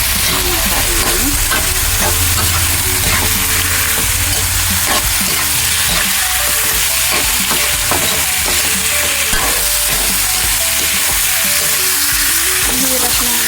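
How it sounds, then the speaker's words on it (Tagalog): Meat frying in a pan for a monggo dish, producing a loud, dense and continuous sizzle with stirring scrapes throughout, very close and unbroken, with no talking. "lagay na natin yung ating karne. Lutuin lang muna natin."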